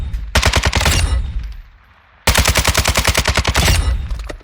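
Sustained automatic gunfire from a Warzone 2 loadout, two long rapid bursts of evenly spaced loud shots separated by a brief lull, close and dominant with no talk.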